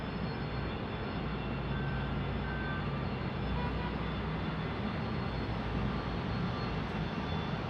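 Constant loud roar of aircraft engines at Salt Lake City International Airport, with a few faint, brief beeps and bells sounding through the steady noise during a pushback.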